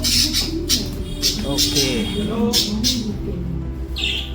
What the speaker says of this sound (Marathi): आम्ही थोडे पक्षी घेतलेले आहेत ह्याच्यामध्ये ठेवलेत ते